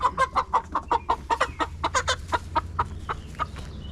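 Several chickens cluck in a quick, steady run of close, fairly loud calls while being moved into a DIY chicken tractor on fresh grass, with a low hum underneath.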